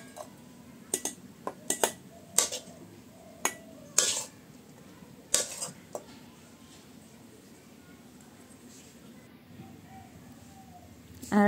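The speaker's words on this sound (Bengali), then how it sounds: "এটাকে আমি একটা বাটির মধ্যে বেড়ে নিব" Fried vegetables are served into a bowl with a spoon, giving a run of sharp metallic clinks and scrapes against the dish, close and fairly quiet, then fading to near silence.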